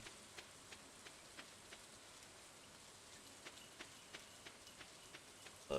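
Rain falls in a video game as a faint, steady hiss of patter, with soft drop ticks landing every second or so, quiet and even throughout.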